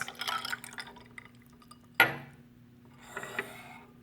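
Room temperature water poured over ice in a glass, a sharp splash-and-clink onset followed by a trickling, bubbling fill that fades, then a softer second pour near the end, close and fairly quiet over a low hum.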